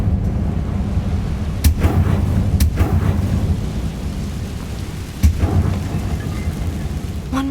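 Fiery Incendio spell cast in Hogwarts Legacy, heard as a steady, loud roaring rumble with a few sharp crackling bursts cutting through.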